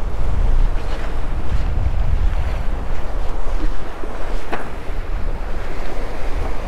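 A Beneteau First 36 performance cruiser sails at sea, with continuous rushing water, wave splash against the hull and strong wind noise, no voices.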